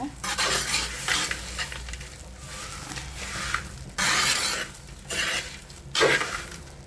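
Fried eggplant moju being stirred in a pan, with bursts of sizzling and scraping as a utensil turns the mixture in several sweeps and light clinks against the metal, close and without speech.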